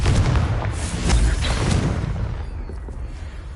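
A Confringo fire spell exploding in the video game Hogwarts Legacy, a deep loud boom with a rumbling burst that decays over a few seconds, with no talk.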